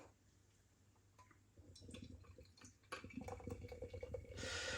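Peanut butter and raspberry pale ale poured from a can into a glass, a faint liquid trickle and splash growing louder and fizzier toward the end, with no talk.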